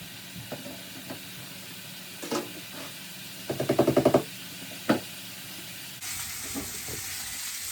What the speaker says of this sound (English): our pork chops have been searing for a little bit